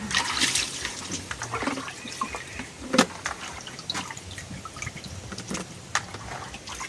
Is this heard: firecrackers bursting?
no